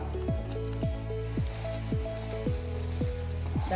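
Thickened mango pulp being stirred in a pan for a sweet, soft repeated squelching and slapping about twice a second, close and alone with no talk.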